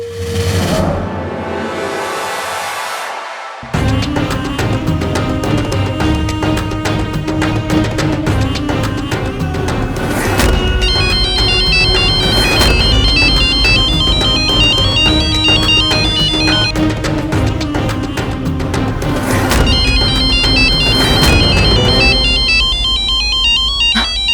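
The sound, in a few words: phone ringtone, incoming phone call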